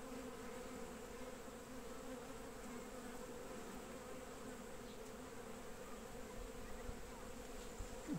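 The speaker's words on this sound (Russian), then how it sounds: "Вот наш сироп пчелы складируют." Honeybees swarm over hive frames where they store sugar syrup in a young split colony, a dense, even buzzing hum close up and constant, with no voices.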